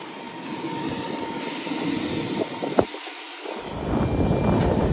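Airplane engine drone fills the cabin on a Gombe-Abuja flight, a steady broadband roar with a brief sharp knock partway through and slight swelling toward the end; no speech.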